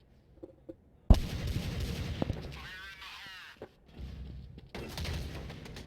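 Gunshots at the B bomb site in a Counter-Strike match, including a Deagle: a sharp loud shot followed by scattered further shots and impacts, with a commentator talking over the action.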